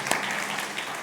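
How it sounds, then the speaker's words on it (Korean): A church congregation applauds briefly during a Sunday service, a short, soft burst of clapping that sounds somewhat distant. "박수."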